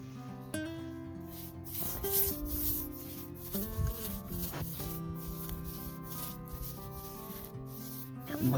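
A cloth rubs wood finish onto a piece of wood in a quiet home setting, making soft, repeated swishing and rubbing strokes up close, with a steady tonal hum running underneath.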